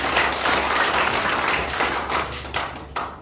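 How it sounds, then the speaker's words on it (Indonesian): Applause from the audience at an Indonesian business marketing event in Bali, dense clapping that stays fairly even and fades slightly toward the end, with no talk over it. "Tepuk tangan buat PT Indonesia."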